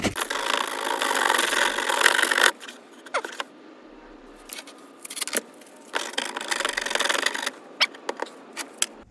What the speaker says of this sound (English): Let me try a little bit heavier grit sandpaper, see if that works.